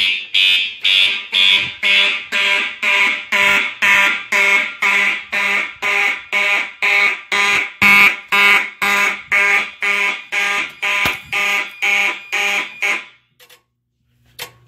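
Fire alarm horns blare during a system test in a steady pulsing pattern, about two dozen loud, even bursts, then cut off near the end; no voices over them.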